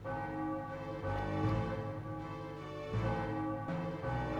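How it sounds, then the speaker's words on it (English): Church bell ringing in the Final Fantasy 9 video game, in the Lindblum theatre district, with steady resonant peals that sustain and swell alone at a loud, even level, marking the end of a performance. "Bell ringing. A performance in the theatre district must have ended."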